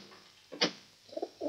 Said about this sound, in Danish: Nej, se duerne deroppe på taget.